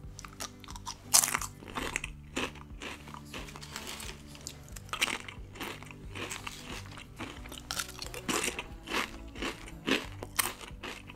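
Close, repeated crisp crunching as nori-salt potato chips from Costco are bitten and chewed, with irregular snapping bites and wet chewing over about ten seconds and no speech.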